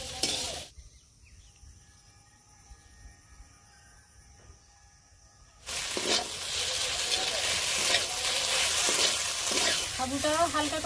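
Sago pearls are lightly fried and stirred in a pan for a sabu payesh pudding. After a long quiet stretch with a faint hum, a loud, steady sizzle and crackle comes in, with stirring scrapes running through it.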